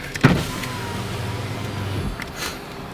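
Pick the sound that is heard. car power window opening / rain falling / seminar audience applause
car power window opening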